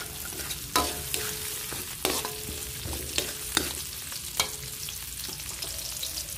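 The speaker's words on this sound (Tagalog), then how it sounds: "I-brown natin ang sibuyas at bawang" Onion and garlic browning in oil in a pan, a steady sizzle broken by roughly half a dozen sharp spatula scrapes and knocks at irregular intervals, nobody speaking.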